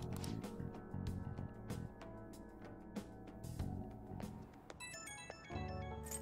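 Phone ringtone from the video game Persona 5 Royal, a repeating melodic electronic ring over quiet in-game music, heard alone without talk.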